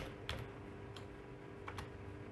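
A few soft keystrokes tapped on a computer keyboard while entering a command, light scattered clicks close by over a steady low hum.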